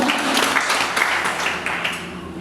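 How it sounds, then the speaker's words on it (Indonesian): A congregation at a Sunday church service applauds in a dense, steady burst of many hands clapping together, filling the whole short stretch without a pause. "Berikan tepuk tangan yang meriah untuk Tuhan"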